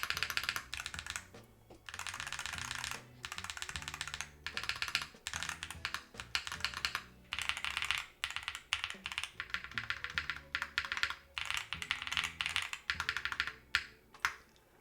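Hall effect keyboard switches 24 and 13 are typed on in close succession. The clacky keystrokes come in fast, uneven bursts with a few short pauses, close and fairly loud, and no one speaks.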